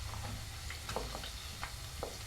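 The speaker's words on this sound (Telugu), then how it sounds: "చూడండి మంచిగా వేగుతున్నాయి మనకి" Spices tempering in hot oil for tomato pachadi, a steady close sizzle and crackle with a few soft pops scattered through, no voices over it.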